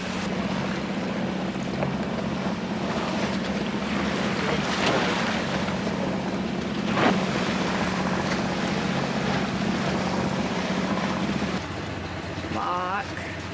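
A sailboat runs under sail and engine, with a steady low engine drone beneath rushing wind and water noise that fills the whole stretch.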